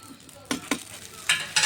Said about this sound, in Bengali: মশলা মশলা ভাজা